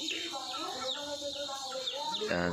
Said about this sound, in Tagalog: Ayan po yung ating mga alaga. Ayan po ay 10 pirasong itik.